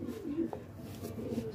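A pair of pigeons coo softly nearby in a steady, low murmur that continues through the short stretch.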